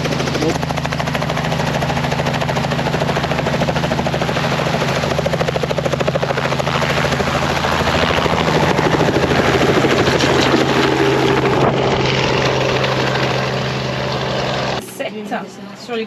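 A helicopter drones loud and close in a steady, thick rotor and engine roar for most of the stretch before cutting off abruptly near the end, with voices talking beneath it.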